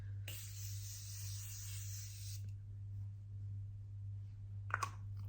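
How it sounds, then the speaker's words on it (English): Morphe continuous setting spray mists out in one fine, continuous hissing burst lasting about two seconds, close and fairly quiet over a steady background hum, followed by a couple of soft clicks. "continuous setting spray."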